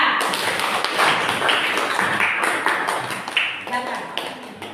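A classroom group of students claps for group 4, a dense run of fairly loud, overlapping hand claps spreading through the room for several seconds with a few brighter taps poking out.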